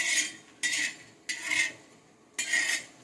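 Dry coconut powder being stirred while roasting in a pan for a chicken curry: four separate bursts of scraping and rustling from the spoon against the pan, close and fairly quiet, with short pauses between strokes and no talking.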